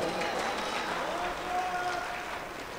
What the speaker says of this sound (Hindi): बजा दें तालियां अगर बजाना चाहते हैं तो